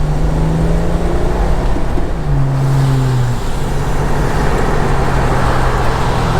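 Boxy red stock Nissan GQ Patrol 4x4 with electronic ignition drives along, its engine a steady close drone with low rumbling tones shifting as it moves through gears, continuous and fairly loud without talk.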